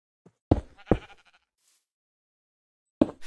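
Sheep bleating in the Minecraft video game: two quick bleats close together, then a pause and a third bleat, near and clear against silence.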